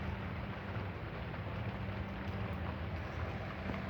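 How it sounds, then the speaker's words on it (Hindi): Steady rain falls outdoors, a dense, unbroken hiss with a low rumble beneath it that stays at the same loud level throughout, with no voices. "आज हमारे यहाँ बारिश हो रहा है"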